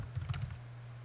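Several quick, soft keystrokes tap on a computer keyboard in a brief, faint burst with no speech.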